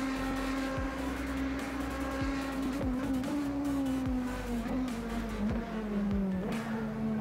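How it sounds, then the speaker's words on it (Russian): Ferrari and Porsche race cars in a Le Mans sim racing game, with a continuous loud engine drone whose pitch rises and falls through repeated gear shifts, close and steady. "Так, болид Феррари мы прошли."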